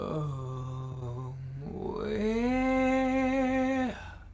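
A lone voice sings a short phrase of a song with heavy vocal fry, close and unaccompanied, sliding up into a sustained, held note.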